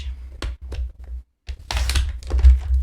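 A paper envelope edge being cut with a paper trimmer: a few quick crisp taps and thunks, a short pause, then a louder scraping slice with clatter, close and distinct.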